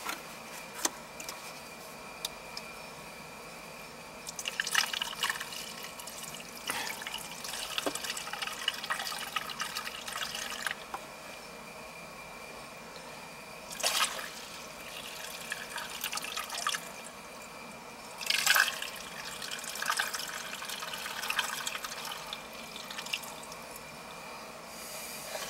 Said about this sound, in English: I'm gonna put some water in the pump,